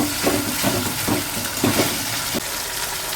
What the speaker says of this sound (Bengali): তারপরে এটা স্লাইস করে কেটে রাখা টমেটোগুলো দিয়ে দিলাম। দিয়ে এবার মশলাটা ভালো করে